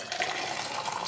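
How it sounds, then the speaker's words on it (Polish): Freshly heated, boiling water pours steadily from a vessel in a short continuous splashing rush, close and fairly loud. "Woda się zagrzała. Wlewam"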